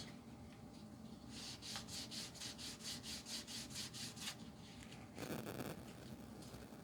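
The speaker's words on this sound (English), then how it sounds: "Start sanding this." A quiet, steady rasp of 400-grit wet sandpaper rubbing back and forth on camel leather hide in a quick rhythm, followed by a brief harder scrub, close and alone.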